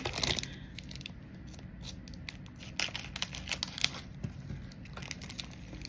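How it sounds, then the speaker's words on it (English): Scissors cutting open the wrapper of a large packaged bar, with snips, crinkling plastic and tearing noises coming in quick irregular bursts close to the microphone. "Cut it open. I brought my scissors over here."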